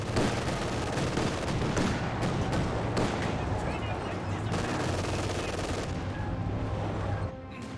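Dense, continuous battle din from Company of Heroes 2 with an MG42 machine gun firing amid other gunfire and explosions, loud and sustained throughout, with game voices and talk mixed in.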